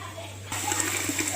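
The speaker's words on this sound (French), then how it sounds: "je lave mon riz à côté" Rice being rinsed by hand in a bowl of water, a steady close wet swishing and splashing that starts abruptly and continues evenly, no voices.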